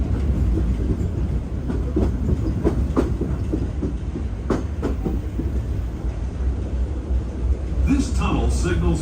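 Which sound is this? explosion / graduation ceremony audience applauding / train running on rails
train running on rails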